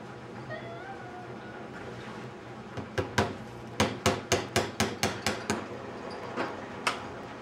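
A run of sharp hammer strikes driving a nail into wood, about a dozen in a quick, fairly even rhythm, close by, with a faint meow-like sound early on.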